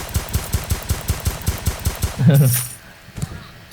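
A Roblox Deadly Heist gun fires a fast, even string of about fifteen close, loud shots, then a heavy crashing burst and a couple of faint scattered pops.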